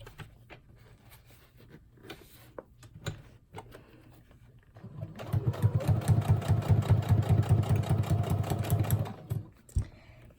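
A sewing machine stitches through the pages of a handmade journal, a fast close rattling run of several seconds after a quiet stretch with light handling noises.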